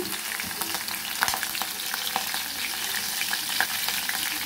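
Green chillies and a few peppercorns fry in hot oil for a buttermilk curry, producing a loud, dense sizzle with sharp spitting pops and occasional stirring scrapes, steady and close throughout.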